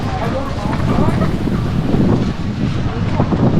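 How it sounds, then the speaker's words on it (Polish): Strong wind buffets the microphone in loud, continuous gusts on Korčula island, Croatia, with speech partly audible under the roaring blasts. "Ale wieje, strasznie wieje."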